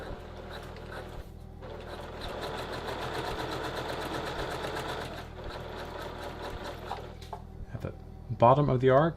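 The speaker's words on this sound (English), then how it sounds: "It is important to sew it at 1/4 inch." A sewing machine stitches a trouser welt pocket in a fast steady rhythmic whir, pausing briefly, before a voice speaks at the end.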